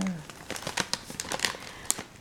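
A plastic bag is crinkled and handled beside a teapot while tea is prepared, giving a quick series of sharp crackles and rustles close by, with a voice faintly present.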